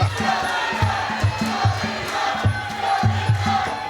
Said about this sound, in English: Selena got the crowd there behind her chanting her name out